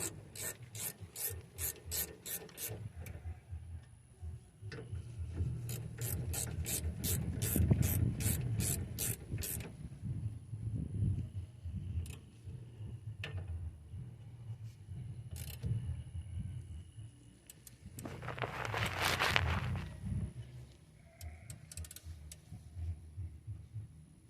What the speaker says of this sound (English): Grab your 10mm ratchet, socket with your ratchet. You want to tighten those babies up.